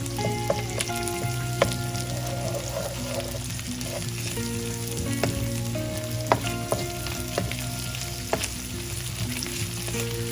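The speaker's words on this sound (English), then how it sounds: "allow this to cook as well in the hot oil" Ginger garlic paste and onion fry in hot oil, giving a steady close sizzle broken by occasional crackles and the clink of stirring, with no voices.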